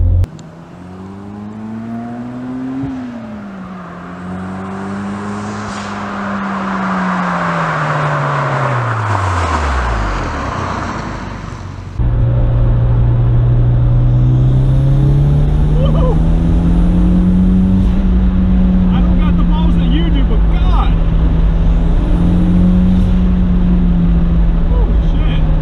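Turbocharged 3SGTE and supercharged J32A2 V6 Toyota MR2 sports cars drive on a road, a strong steady engine drone with a rising and falling revving sweep early on, then a louder sustained engine hum close by, with occasional voices.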